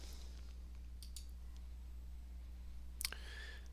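A single soft mouse click on a Save button in software, faint and brief against a quiet hum, followed by a little light clicking.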